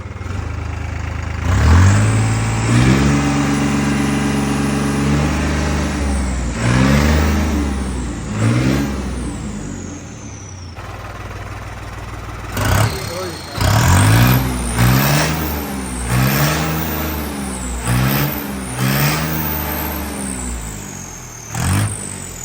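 A modified tractor engine revs hard to full throttle close by, its roar sweeping up and down in repeated bursts, with a long steady high-rev stretch first and then several quick blips separated by brief drops.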